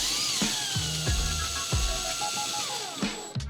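A power drill drives a screw into a wall anchor while hanging IKEA floating shelves, giving several short whirring bursts with pauses between them, close and fairly loud, with no talk.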